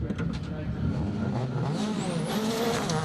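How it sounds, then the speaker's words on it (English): A Mitsubishi Evo rally car with four-wheel-drive gear accelerates hard on a forest rallysprint stage, its engine roaring loud and steady with a rising whine as it pulls away. "Car squats down under acceleration."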